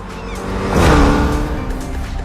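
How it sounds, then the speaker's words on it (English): A race car engine in a Forza Horizon 6 style racing video game swells and passes by with a whooshing roar, rising to a peak and then easing off. "Our cars sound better than ever, with greater detail and remastered audio"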